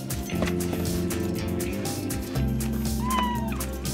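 A few kittens meowing thinly amid a busy, loud indoor background of low rumbling noise and clatter during a flea treatment and rescue.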